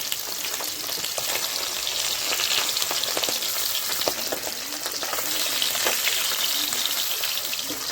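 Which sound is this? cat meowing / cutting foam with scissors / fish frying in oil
fish frying in oil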